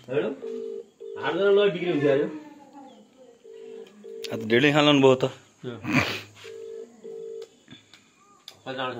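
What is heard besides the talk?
phone dialing tones when calling someone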